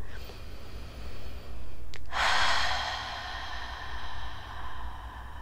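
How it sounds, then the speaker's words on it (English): Slow, deep breathing during a guided relaxation, with a long audible inhale swelling into a drawn-out breathy exhale, close and alone. "Relax. Shh. Breathe."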